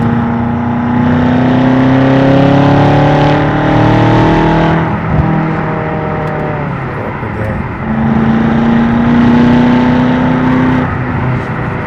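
A 2016 BMW M6 with the Competition Package drops from fourth to third gear on an open road: a loud, sustained engine drone whose pitch dips at the shift, then settles and climbs again.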